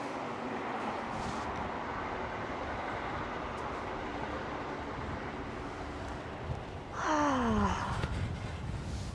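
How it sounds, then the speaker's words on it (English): A train rolls past at a moderate distance as a steady broadband rumble under outdoor ambience, with a squealing rise near the end as it passes closest. "There goes the train."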